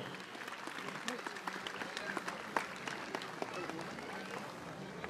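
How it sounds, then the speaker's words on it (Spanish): Crowd clapping in the stands at a jaripeo rodeo in Jalisco, steady applause with scattered sharp claps and voices mixed in, somewhat distant. "Que se oiga fuerte el aplauso, mi gente"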